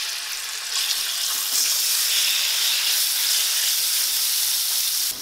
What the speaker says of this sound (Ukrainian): На пательні смажиться м'ясо.